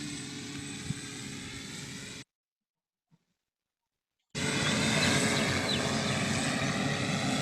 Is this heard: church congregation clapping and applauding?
no